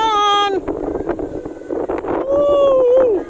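Strong wind buffets the microphone at a high rooftop lookout, a steady rushing roar with gusty swells, while voices shout and whoop excitedly over it.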